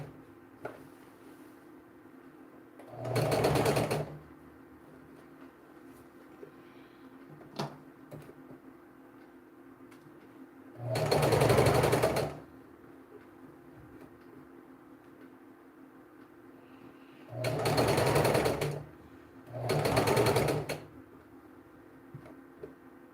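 A home sewing machine stitches fabric for a circle blouse in four short bursts of whirring, each a second or two long, separated by quiet pauses with faint ticks.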